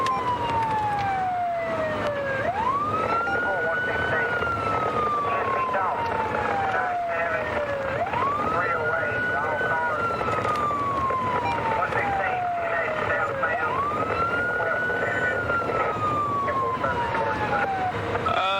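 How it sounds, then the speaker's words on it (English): A highway patrol car's siren wails in long rising and falling sweeps during a high-speed chase, loud and close over steady road and engine noise, with voices faintly mixed in. "Blue lights and siren are activated."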